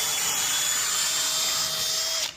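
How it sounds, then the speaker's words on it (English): A power drill bores holes in a 3D-printed ABS plastic car seat, a steady high-pitched whine that holds for about two seconds, then cuts off abruptly. "drill the holes"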